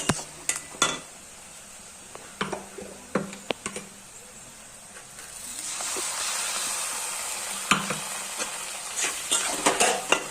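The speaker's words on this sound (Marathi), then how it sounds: "त्यामध्ये गरम तेलामध्ये कांदा परतून घ्यायचा" A spatula clatters against a kadai as onion and masala paste fry in hot oil, sharp scraping knocks spaced out, then a rising sizzle swells midway, with more quick stirring toward the end.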